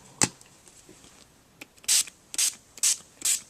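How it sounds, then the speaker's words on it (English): Iridescent gold Glimmer Mist is sprayed lightly onto white paper in four short, hissing spritzes at a steady rhythm, close and fairly soft, after a faint click. "using my Tattered Angels Glimmer Mist, and this is the iridescent gold, I'm just going to lightly spray"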